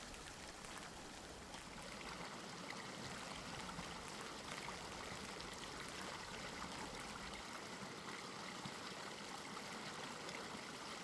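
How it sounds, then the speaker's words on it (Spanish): The Duerna river flows steadily with a constant broadband rushing and trickling wash, soft and even throughout with no voices. "Este es el río Duerna, un río modesto y discreto de tan solo 54 kilómetros de longitud."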